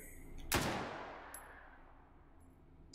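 A single FAL rifle shot fired semi-auto in a VR shooting game, one sharp loud report followed by a decaying reverberant tail, with a faint mechanical clink afterward.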